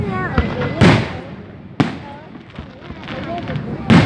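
Fireworks bursting over water during a 2018 display, three sharp, loud booms spaced a couple of seconds apart, with people talking throughout and whistling trails in between.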